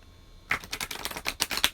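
A new deck of cards is shuffled close by, a quick run of crisp riffling clicks and flutters lasting just over a second after a quiet start, with no talking.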